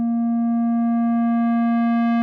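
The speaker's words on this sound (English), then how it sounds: "Now it's basically a square wave, right?" A steady synthesized tone from VCV Rack, a sine wave pushed into saturation by raised gain until it takes on a buzzy, harmonic-rich square-wave character, sustained and loud with no voices.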